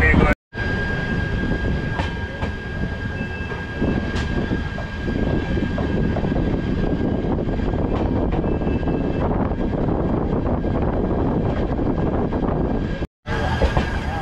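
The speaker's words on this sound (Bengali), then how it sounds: "আমার ট্রেন এখনও উজ্জয়ন ঢুকছে" An Indian Railways train runs near Ujjain, a continuous loud rumble with rattling and clatter from the carriages, briefly cut at the start and near the end.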